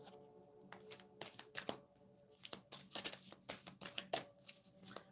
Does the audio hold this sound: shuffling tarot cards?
yes